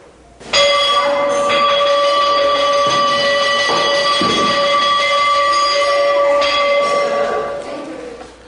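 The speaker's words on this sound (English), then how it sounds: "The bell sounds 3 times daily, in the morning, at midday, and in the evening, signaling to everyone that the meal is ready" A single meal bell rings out loud and close, its bright metallic tone sustaining and slowly fading over several seconds.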